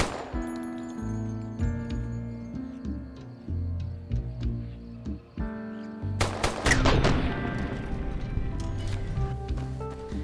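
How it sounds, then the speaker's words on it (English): Rapid 9mm gunfire in the video game Fallout: New Vegas, fired at a gecko, with a dense burst of loud sharp shots in the second half over steady game music. "Briefly wonder why geckos are so 9mm resistant while gunning down this one."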